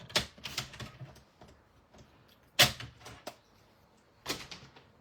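Cardstock is cut with a paper trimmer for a box fold card, giving a few sharp close clicks and slicing snaps separated by quieter handling sounds.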